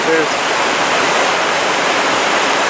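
Sand River rapids flowing at the river mouth beside Lake Superior, a loud, steady, broadband rush of white water close by, continuous and unbroken.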